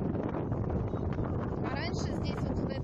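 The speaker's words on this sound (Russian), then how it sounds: "Ветер," Steady, rough wind buffeting the microphone beside Lake Krasnoye in Krasnoperekopsk, Crimea, continuous and fairly loud throughout, with a faint whistling tone near the end.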